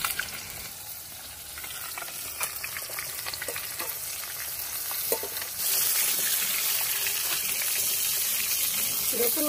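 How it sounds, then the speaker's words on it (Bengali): Fresh rohu fish fries lightly in a pan with a soft, steady sizzle that swells louder partway through, a few stirring clinks over it, and no talking. "একটু হালকা করে ভেজেই তুলে দেবো।"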